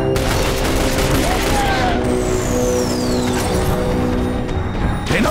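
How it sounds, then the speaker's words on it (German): Gunfire in the video game The Bureau: XCOM Declassified: a dense, loud, continuous battle din of shots and crashes, with whooshing projectile sweeps cutting through the noise. "Bin unter Beschuss."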